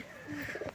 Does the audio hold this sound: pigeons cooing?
yes